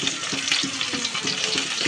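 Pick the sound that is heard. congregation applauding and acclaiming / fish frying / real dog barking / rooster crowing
fish frying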